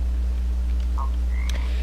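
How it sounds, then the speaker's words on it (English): American toads in the Minecraft video game croak once near the middle, a short low chirp over a steady low hum, with a faint trill shortly after. "And then here we have some American toads."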